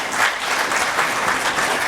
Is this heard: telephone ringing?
no